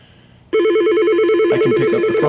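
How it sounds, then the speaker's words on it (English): A Yealink T31P VoIP desk phone rings loudly and close by, a warbling electronic trill that starts abruptly and repeats in rapid pulses, with a second higher trilling tone joining partway through. "And then we have the phone ringing."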